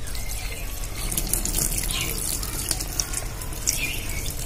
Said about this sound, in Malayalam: ഈ ഇതിൽ നമുക്ക് നല്ലോണം വെള്ളം ഒഴിച്ചു കൊടുക്കണം.